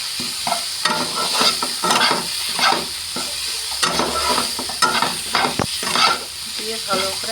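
Chicken sandwich filling seasoned with garam masala and ground pepper is stirred in a hot pan, a spatula scraping and clattering in an irregular rhythm over a steady close sizzle, with no talking.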